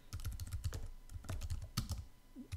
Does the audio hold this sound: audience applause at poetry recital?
no